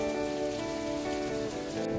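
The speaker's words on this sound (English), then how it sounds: "The rain and wind intensified significantly." Heavy, steady rain from Hurricane Irma pours down in Central Florida, a dense continuous hiss of drops drumming on surfaces close by, with no voices.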